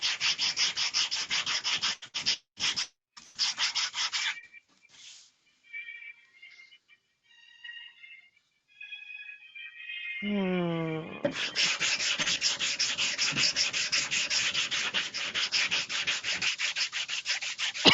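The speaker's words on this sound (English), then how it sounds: "Red Devil 1170 plexiglass cutting tool." A Red Devil 1170 cutting tool scores plexiglass: a few sharp scraping bursts, a quieter pause with faint tonal chirps, then a long, steady, close scratching rasp.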